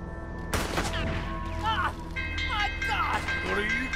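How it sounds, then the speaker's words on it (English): Rapid gunfire bursts ring out in Red Dead Redemption 2, a loud crack followed by scattered shots and ricochet-like whines, with people shouting and talking over the shooting throughout. "They're shooting at us!"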